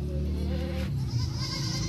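Goats bleat on a goat farm. A close, loud, wavering cry is followed by a second, higher bleat, with the cries running together over about two seconds.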